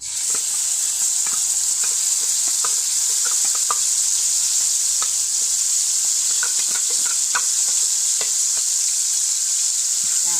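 Blended chili frying in vegetable oil, a steady loud sizzle and hiss with occasional crackles and stirring scrapes throughout, no talk.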